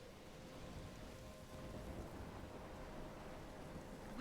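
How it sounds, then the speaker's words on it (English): Steady rain with a low rumbling storm wash in the Life is Strange video game thunderstorm, a continuous dense hiss and roar that never lets up, with no distinct thunder crack standing out and no voices. "What's happening? I'm trapped in a storm?"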